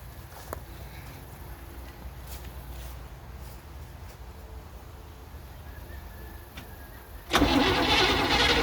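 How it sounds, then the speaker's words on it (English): An antique car engine turns over and runs roughly for several seconds, then a sudden louder burst of revving near the end as gas is given, before it falters and dies. "Boy, you give a little gas and she dies right out."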